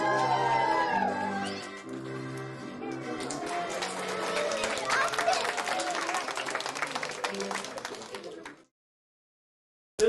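A crowd at a juggling show in a park district library claps under loud talk and a few whooping voices, the applause holding for about eight seconds before cutting to silence.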